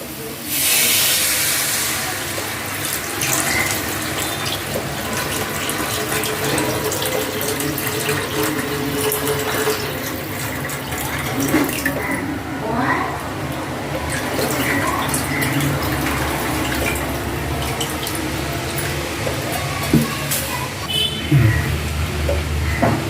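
Tamarind water pours steadily into a pot with a continuous rushing, hissing splash that lasts throughout and ends in a few small clinks.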